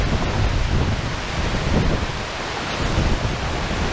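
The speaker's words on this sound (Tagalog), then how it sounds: "it feels like the sound of the water, dashing down the waterfalls. It's like creating a thundering sound." Water rushes down Bugtong Bato Triple Falls in Tibiao, Antique, a loud, unbroken thundering roar that stays dense and steady from start to finish, with no voices.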